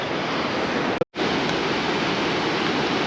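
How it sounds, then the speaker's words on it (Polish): Powerful waterfall in southern Laos, a steady broad roar of rushing water, loud and constant, briefly cut out for a moment before resuming. "no potężny wodospad wydaje mi się, że w, e, podczas e, sezonu deszczowego to może być jeszcze mocniej"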